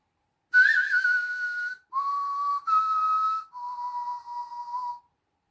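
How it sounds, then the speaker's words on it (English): Whistled melody from The Good, the Bad and the Ugly theme, four sustained, clear tones with slight pitch bends, heard alone and fairly close, with short gaps between the notes. "Just in case you're wondering if I was the one whistling, yes, that was me."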